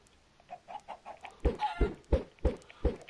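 Minecraft chickens clucking in a rapid, uneven series of short clucks, the later ones louder and closer, with no one talking.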